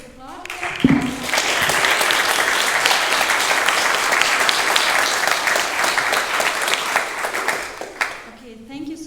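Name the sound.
audience applause after presentations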